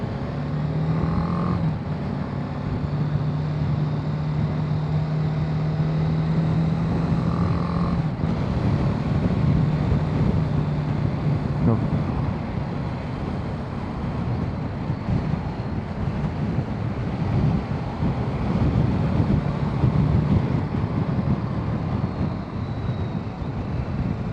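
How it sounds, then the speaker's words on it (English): Strong wind buffets the microphone in a continuous roar, with a BMW G310 GS motorcycle rumbling underneath throughout. "Tell you what, it's windy today."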